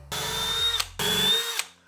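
A power drill whirs in two bursts, each a steady high-pitched spin ending as the bit breaks through a 2x4 while pre-drilling for a screw, with a short gap between.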